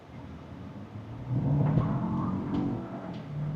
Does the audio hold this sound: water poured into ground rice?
no